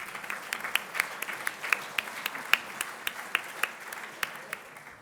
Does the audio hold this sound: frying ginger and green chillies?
no